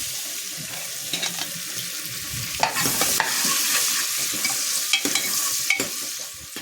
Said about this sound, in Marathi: इथे मी फोडणीसाठी 2 बारीक कांदे चिरून घेतलेले आहेत ते घालून घ्यायचे